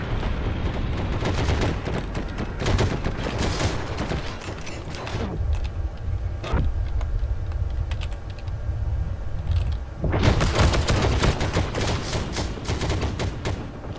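Gunfire in the World War II shooter game Heroes & Generals: dense, rapid bursts of shots, loud and close. A brief lull partway through is followed by another heavy fusillade.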